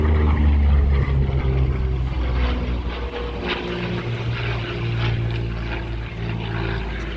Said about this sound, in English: And as we look at the Spitfire coming in, we also have the Mustang flown by Doug Hamilton